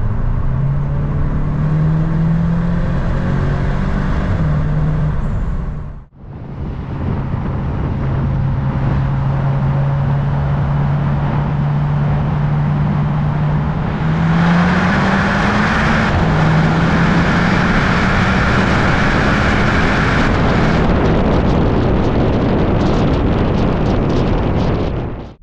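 The turbocharged 2.0 engine of a VW Arteon R 4Motion roars steadily inside a tunnel, loud and close, with a drone that climbs as the car speeds up and a brief drop in sound early on. Wind rushes over the microphone throughout.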